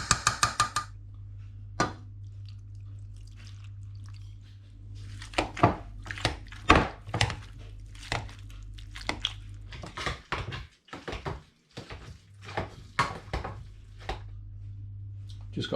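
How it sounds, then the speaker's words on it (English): Boiled potatoes being mashed in a pot in a home kitchen, giving irregular soft squelching thuds and knocks of the masher against the pan, spaced unevenly, close and fairly quiet, with no talking. "let's get these potatoes mashed"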